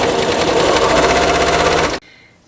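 A sewing machine runs in one loud, fast, even burst while stitching quilt half-square triangles together, then stops abruptly, leaving faint room sound.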